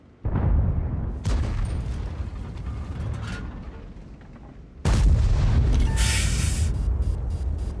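A tank cannon fires in World of Tanks, an Object 277 heavy tank, with a loud booming blast at the start, then a second heavy shot midway followed by mechanical reload clatter, all close and dominant.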